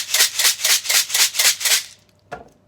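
A handheld shaker is shaken loudly in about eight steady rhythmic bursts of rattling, then stops, followed by one short tap.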